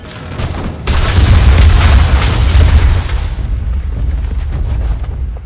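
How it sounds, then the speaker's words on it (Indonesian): A pressure-cooker bomb detonates in a film scene, a sudden deep boom hitting at about one second and rolling into a long, loud rumble that slowly fades without any talk. "bom panci yang sudah dipersiapkan Solotov sebelumnya meledak dan membuat Isaac terpental"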